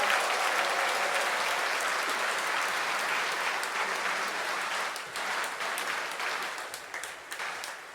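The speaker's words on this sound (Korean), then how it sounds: "신부님들이 자리를 잡는 동안 다시 한번 큰 박수로 준비를 하도록 하겠습니다." Applause from the congregation at a bishop's retirement thanksgiving Mass in a church fills the full eight seconds, dense and steady, easing slightly toward the end.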